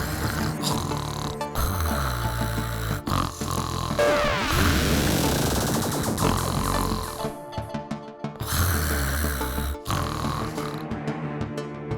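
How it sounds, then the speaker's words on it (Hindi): A sleeping old woman in an animated cartoon snores loudly in drawn-out, rasping rounds that repeat several times over a busy background score. "यहाँ खर्राटे मारकर बड़े मजे से सो रही है"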